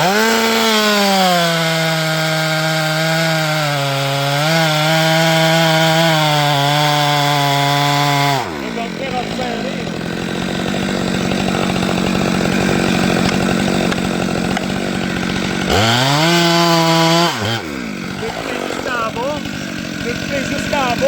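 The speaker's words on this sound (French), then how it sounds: "si je continue à couper, je me ferai pas coincer ma scie" A chainsaw roars loudly while felling a tree, engine pitch rising and dropping as it bites through the wood and briefly idles.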